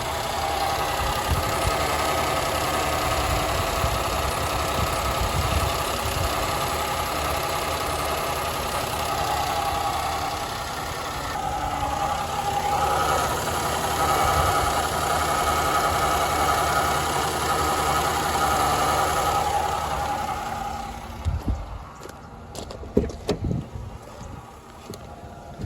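A Chevy Malibu Maxx engine idles with a bad noise, a steady, close mechanical drone that runs continuously and ends in a few sharp knocks and clunks.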